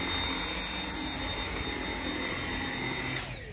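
A Dyson V7 cordless vacuum cleaner runs with a steady high-pitched whine and airy roar, heard close and loud, then winds down at the end.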